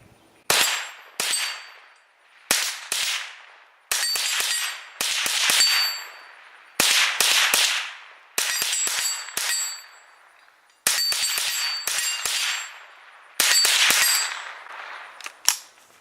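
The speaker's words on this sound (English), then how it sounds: "It's kind of hitting some steel out there, popping some dirt clumps with the 1022 Takedown." Ruger 10/22 Takedown rifle in a Magpul Hunter X-22 stock fired at steel targets about 25 yards away: a steady string of crisp shots, each followed by a bright metallic ring, some in quick doubles, loud and with no talk.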